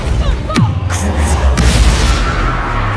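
A Depulso spell cast in the Hogwarts Legacy game, a loud booming burst with whooshing sweeps over dense, roaring game noise, brief and close.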